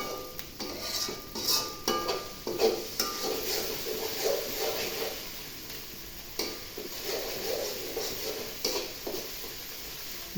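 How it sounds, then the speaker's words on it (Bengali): Spices frying with garlic and onion paste for a beef curry, with a continuous sizzle and repeated scraping and clinking of a spoon stirring the pan over about ten seconds. "মশলাগুলো একটু বেজে নিচ্ছি।"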